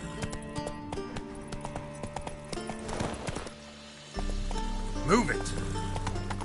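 The horse Roach in The Witcher 3 gallops with rhythmic clip-clopping hooves under a voice urging it on, then the hoofbeats fade into a low rumble and a brief whinny.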